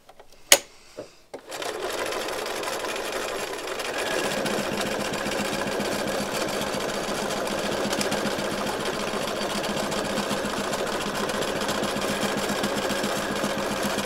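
A sewing machine stitches a circle with the fabric pivoting on a fixed point, its motor running as a steady, close, continuous whir after a couple of brief clicks at the start, with no talking.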